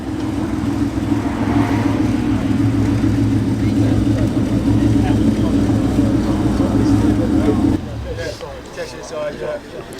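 Engines of a Porsche 944 and a TVR sweep past at a classic car meet, a loud steady mid-pitched drone holding for several seconds before dropping away suddenly, with a voice talking over it.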